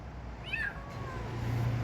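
A frightened kitten trapped inside a car meows once, a short rising-falling cry close by, over a steady low hum and background noise.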